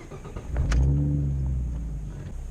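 A 2014 Roush V6 Mustang revs hard from idle, its engine note rising to a loud, close roar and then holding a droning pitch as it settles, with no talk over it.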